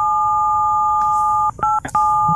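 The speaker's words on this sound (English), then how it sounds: "Oh, is that your phone going there?" Telephone ringing tones heard over a call discussing slavery history in Bristol: a steady, loud paired electronic tone, broken by several short gaps near the end.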